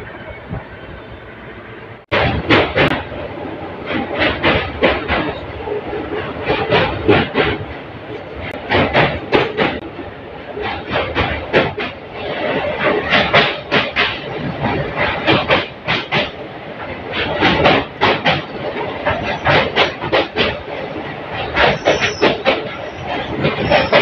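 The 13173 Sabroom Kanchenjunga Express runs on rails toward NJP, with loud close clickety-clack beats from the wheels repeating steadily over a continuous rumble after a quieter start.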